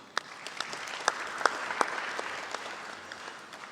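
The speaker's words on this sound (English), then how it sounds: "give our panelists a big round of applause" A conference audience claps steadily for a panel, a dense patter of applause with a few sharper claps standing out.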